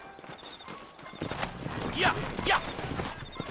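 Horse hooves clip-clop at a steady walking pace in the western video game Red Dead Redemption, heard fairly close under a man's brief spoken reply, with ambient game sound throughout.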